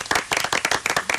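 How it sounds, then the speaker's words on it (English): A studio audience applauds in dense, lively clapping that swells and dips in quick bursts, loud and close, with no talk over it. "Have a round of applause on me."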